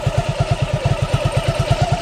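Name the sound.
engine idling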